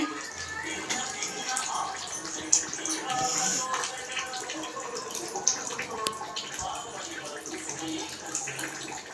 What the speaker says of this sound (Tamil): துணி அலசுறீங்களாம்மா